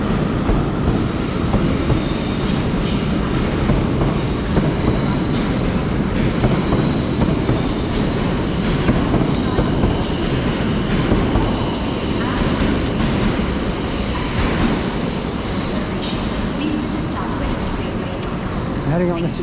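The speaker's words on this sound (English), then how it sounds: "Heading on the 1659 Southwestern Railway service to London Waterloo" A South Western Railway passenger train at Bournemouth station rumbles loudly and continuously with wheel clatter and faint squeals, voices audible beneath.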